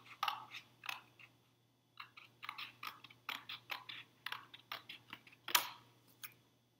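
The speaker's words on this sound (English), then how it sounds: "You just want to cut a straight or maybe slightly curvy piece." Scissors snip through a thin piece of card in close, crisp cuts, a short run of snips, a brief pause, then a steady rhythmic series of about a dozen more, with no talking.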